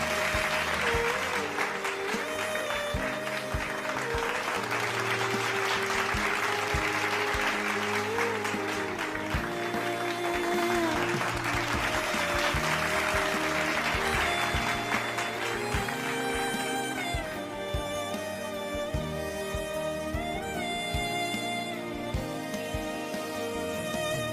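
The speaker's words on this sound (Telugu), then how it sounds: "అందరూ చప్పట్లు కొట్టి అగస్టింగ్ గారిని ఆహ్వానిద్దాం" Audience at a church gathering clapping to welcome a little boy to sing, continuous dense applause from many hands, fairly loud and sustained, with music playing underneath.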